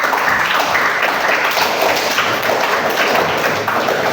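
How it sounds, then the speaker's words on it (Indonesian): A class of students applauding, dense and steady clapping that fills the room for several seconds without a break. "Tepuk tangan untuk kalian."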